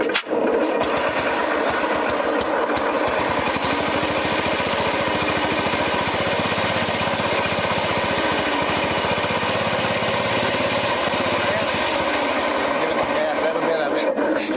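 The small engine of an old BMW Isetta, restarted after decades in the woods, chugs and rattles steadily up close, running rough with a slight rise in revs while someone talks over it.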